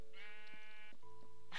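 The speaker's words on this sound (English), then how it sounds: "and it is a sheep." A sheep bleats in Minecraft, two short nasal wavering calls close together, loud and clear with nothing else around.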